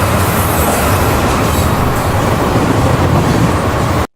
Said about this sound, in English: I carry the ambient sound of the train station